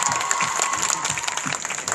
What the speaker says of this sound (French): On peut applaudir l'auteur du film et le producteur du film